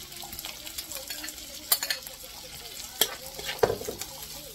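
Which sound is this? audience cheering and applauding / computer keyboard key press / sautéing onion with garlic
sautéing onion with garlic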